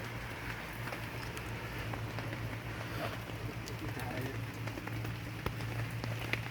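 Rain falling in a forest at a patrol camp, a steady patter on leaves and tent surfaces with a low hum underneath, fairly faint and continuous.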